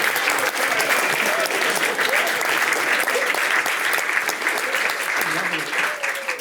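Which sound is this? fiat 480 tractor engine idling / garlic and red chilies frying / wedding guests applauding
wedding guests applauding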